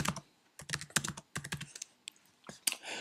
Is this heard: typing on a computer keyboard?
yes